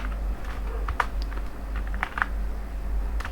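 Code is typed on a computer keyboard in a quiet room, a short run of soft, irregular key clicks over a low steady hum.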